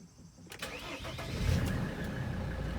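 A high-mileage Mercedes Sprinter van engine cranks and catches, then settles into a steady, rumbling idle close by, just after an SRS code clearing.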